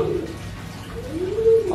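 A pigeon coos close by in a short, low, rising call, with faint background noise and no talk.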